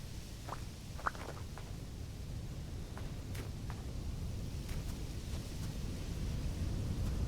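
A storm rolls through the Vintage Story survival video game: a constant roar of rain and wind with faint distant thunder rumbles and a few sharp crackles, growing slightly louder toward the end, no talking.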